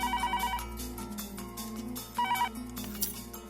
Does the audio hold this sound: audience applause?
no